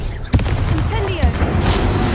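A fire spell is cast in a fantasy wizard video game, a sharp burst with a deep boom followed by a second thump and roaring game effects, with voices mixed in the game audio.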